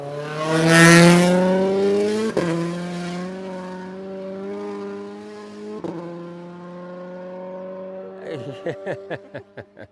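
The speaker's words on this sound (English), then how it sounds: "he does like to give it a bit, doesn't he, Taka-san, when he's warming his tyres and he's warming his brakes up" A rally car revs hard while warming its tyres and brakes on a road stage, engine note rising and falling in long sweeps, ending in a quick series of sharp throttle blips.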